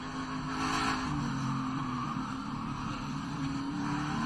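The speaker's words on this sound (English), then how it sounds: "Listen to the throttle." A NASCAR race car engine at throttle: a loud, sustained, droning roar held steady throughout, with no talking over it.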